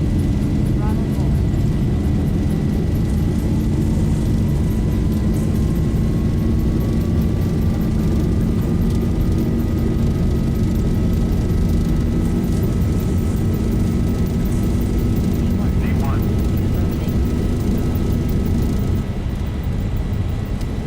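Engines of a Boeing 737 in the Zibo mod flight simulator run at takeoff thrust with a loud, continuous roar. A whining tone climbs in pitch as they spool up, and a brief voice breaks in near the end.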